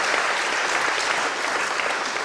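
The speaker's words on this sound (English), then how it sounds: "Give a big round of applause to Stephen as well" Audience applause at a classical Christmas evening concert, steady dense clapping from a full hall throughout, no voices over it.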